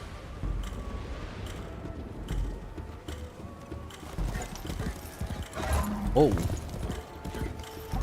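Horse hooves clip-clop in the video game Warframe with a whinny near the end, under occasional speech and game sounds.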